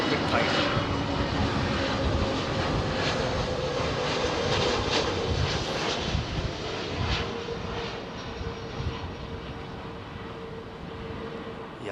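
Iberia Airbus A320neo jet at London Heathrow, a steady broadband engine roar filling the whole clip and slowly easing, with people talking over it.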